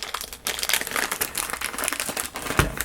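Close, continuous crinkling and crackling of a sealed plastic bag holding single-ended toothpicks for a hummingbird toothpick dispenser, with steady handling noise and a small bump near the end.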